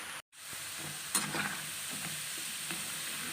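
Rolled prawn balls fry in hot oil with a steady, fairly soft sizzle, broken by a brief drop-out near the start and a few light clicks and bubbling bursts.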